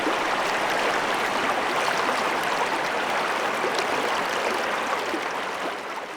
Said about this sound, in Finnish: Joki kohisee heti tuossa mun riipparin takana.